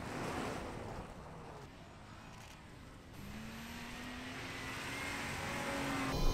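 A Land Rover Defender 110 stunt car from the Bond film No Time To Die is driven at speed, its engine note rising steadily over heavy wind rush outdoors.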